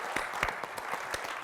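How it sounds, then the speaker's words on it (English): Quick burst of audience applause at a conference panel, a room of hands clapping briskly in a dense patter that holds steady for a moment. "Can I get a quick applause for the conference and everything going on?"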